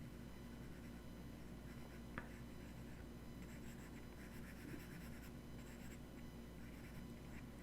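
Drawing a foot on paper gives faint, steady scratchy strokes, soft and close, with a few slightly sharper marks and no talking.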